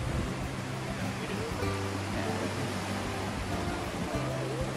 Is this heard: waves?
yes